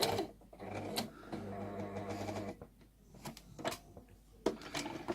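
Sewing machine stitching fabric for a Tilda doll, a quiet whirring run in short bursts with clicks and pauses as the hand wheel is turned and the presser foot lifted.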